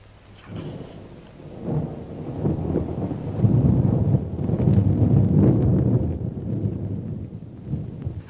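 A thunderstorm with steady heavy rain, thunder rumbling low and building from faint to loud before holding as a long continuous roll under the downpour.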